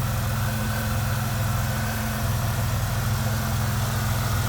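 A 2000 Pontiac Firebird's 3800 Series 2 V6 idles steadily with a low, even rumble and constant hum, heard up close with no voices.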